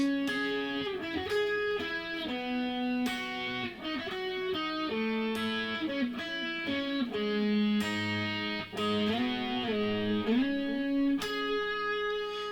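Electric guitar with effects and mild distortion playing the first half of a song's verse, sustained chords and single notes joined by audible slides, steady and close with no talk.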